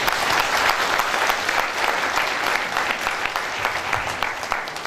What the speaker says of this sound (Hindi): एक जोरदार ताली आप अपने लिए बजाओ पहले तो।